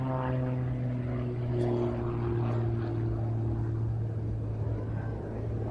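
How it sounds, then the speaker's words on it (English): A propeller-driven aerobatic display aircraft with supplementary jet turbines switched on is heard at an air show festival as a steady, moderately distant droning hum with shifting pitch tones that fade slightly over the clip. "So you can definitely hear when he switches the turbines on."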